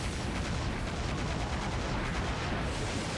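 An explosion in the video game Rockman X DiVE rumbles as a continuous, dense burst of crackling blasts, loud and sustained for several seconds without letup.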